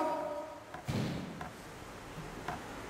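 A coconut is struck hard down onto a bullet to pierce it, giving one heavy, dull thud near the one-second mark, followed by a couple of faint taps over a quiet background.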